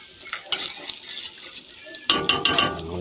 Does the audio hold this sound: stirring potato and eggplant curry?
yes